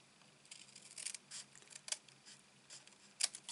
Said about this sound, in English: grabbing my scissors